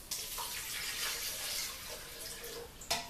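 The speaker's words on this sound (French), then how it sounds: "On commence par 300 ml d'eau." Water pouring into a container while making a fishing bait recipe, a steady close splashing stream running throughout at moderate level, ending with a small clink.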